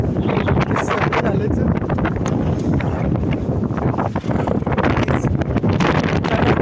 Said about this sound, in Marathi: वादळ वारा आलाय.